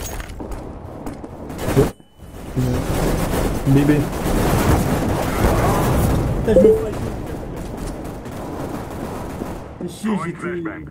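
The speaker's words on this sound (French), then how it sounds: "Deploying flashbang." A flashbang grenade goes off in a Counter-Strike: Global Offensive match, amid loud continuous gunfire and chaotic in-game noise with a sharp break near two seconds, while players talk over the action.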